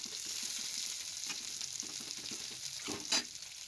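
Chopped garlic frying in a little oil in a pan for a healthy chicken dish: a steady, close hiss of sizzling throughout, with a few soft stirring scrapes and a brief sharper clink near the end.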